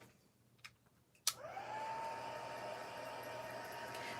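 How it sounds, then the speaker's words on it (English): A heat gun switches on with a sharp click and then blows a steady, loud stream of hot air over a craft card, holding a constant whine with no talking. "Let me hit this with my heat gun."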